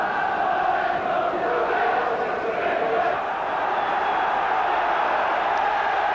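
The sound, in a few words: football stadium crowd at Carrow Road, Norwich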